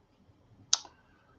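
A prize wheel in a lottery draw gives one sharp, bright click and then a faint second tick, close by against a quiet room.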